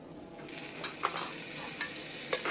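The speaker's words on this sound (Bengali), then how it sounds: "আমি চালের সঙ্গে আদা রসুন বাটাটাও ভেজে নেব।" Rice fries with ginger garlic paste in a pan for pulao: a steady close sizzle with a spoon scraping and stirring at intervals, producing several sharp clinks, and no talk.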